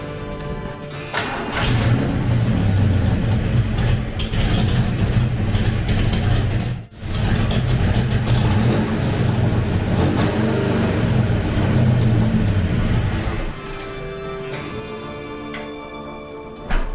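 Car engine idling steadily, then revving up and settling back while the idle is adjusted during a vacuum-leak smoke test, loud and close, with a brief dip in the middle and no talk over it.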